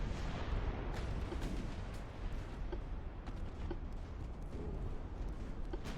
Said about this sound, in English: There's a big torpedo hit.